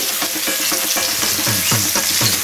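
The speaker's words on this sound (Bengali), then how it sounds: "এবারে এই তেলের মধ্যেই দিয়ে দিচ্ছি পেঁয়াজ কুচি" Chopped onion drops into hot oil left from frying fish, giving a loud, crackling sizzle with rapid spattering pops and stirring scrapes close by, continuous and unaccompanied by talk.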